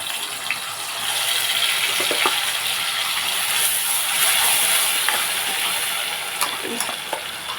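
Green chilies and onion paste hit a hot frying pan with a loud, bright, continuous sizzle and hiss, broken by a few sharp crackles and stirring clicks.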